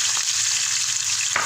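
Onions fry in a hot pan with a loud, dense, steady sizzle, ending in a short sharper burst of crackle.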